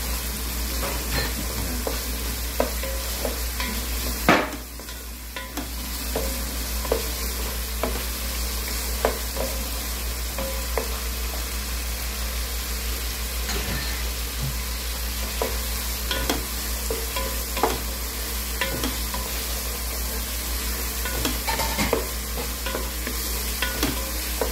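Ingredients for milkfish sinigang are sautéed in a pan, giving a steady, close sizzle with scattered pops and utensil scrapes that runs on for the whole stretch, with no talk.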